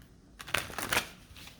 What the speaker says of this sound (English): One more shuffle and we'll pull.